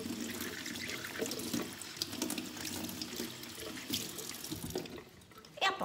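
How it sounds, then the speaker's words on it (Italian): The lid of a Nespresso Aeroccino milk frother is rinsed under a running kitchen tap, a continuous splashing stream into the sink with small shifts as the lid moves, ending with a brief clatter. "sciacquo il coperchio,"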